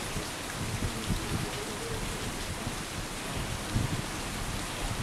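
Rain falling steadily during a stormy spell at sea in Tahiti, a dense even hiss with scattered drops and faint low rumbles underneath, no voices heard.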